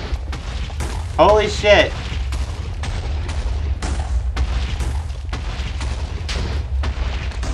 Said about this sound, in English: Oh, TNT.